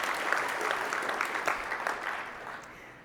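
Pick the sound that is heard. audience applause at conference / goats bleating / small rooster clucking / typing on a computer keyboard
audience applause at conference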